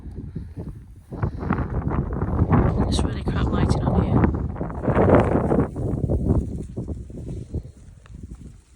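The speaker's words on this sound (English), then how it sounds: "I'm not sure you can hear me very well with the wind" Wind gusting across a microphone outdoors at a cold Rough Fell sheep sale in Penrith, a steady low rumble and buffeting under someone talking close by for most of the stretch.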